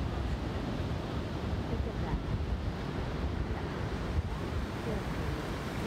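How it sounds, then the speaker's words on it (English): King-tide ocean waves surge in at Oceano Dunes, a loud continuous wash of surf mixed with heavy wind buffeting the microphone. "ocean really broke through."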